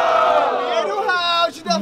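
At the grand final of a student rap battle, a crowd cheers and shouts loudly in a sustained roar that rises and then trails off near the end.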